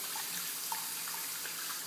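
Water running from a tap into a basin to bathe a plush golden retriever toy, a soft, steady trickling splash heard fairly quietly with no talking.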